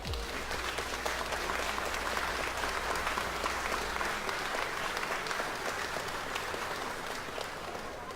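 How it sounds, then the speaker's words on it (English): An audience applauds continuously and loudly after a talk on stage, with dense clapping that stays steady for several seconds and eases slightly toward the end. Nobody speaks over it. "the applause did silence down"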